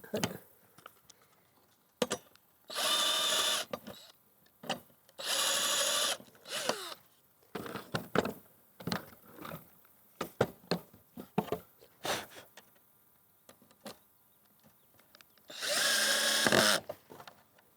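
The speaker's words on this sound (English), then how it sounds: "I get this nice hinge drill bit that" A power drill with a hinge bit bores pilot holes for a hinge on a wooden chicken coop, running in several whirring bursts of a second or two, separated by clicks, knocks and handling noises.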